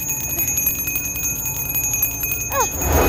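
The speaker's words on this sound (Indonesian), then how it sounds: "Suara lonceng." A bell rings on steadily with bright, sustained metallic tones in an indoor scene from an Indonesian family comedy. A brief squeal rises near the end.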